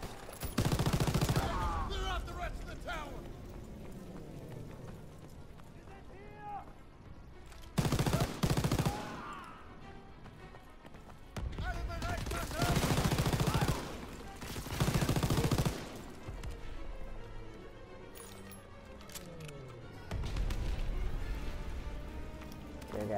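Gunfire in the Call of Duty WWII campaign comes in loud, sustained automatic bursts of a few seconds each, separated by quieter gaps with ambient battle noise and occasional voices.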